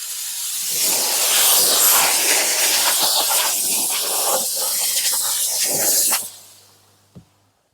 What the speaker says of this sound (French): Votre buse vapeur et donc votre vapeur sur la surface.